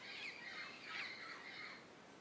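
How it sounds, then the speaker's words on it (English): Birds call overhead in open air, with faint, thin squawks and chirps that come in a few short bursts over a quiet background. "just the fact that I can breathe and listen to these beautiful birds singing and flying over my head in circles"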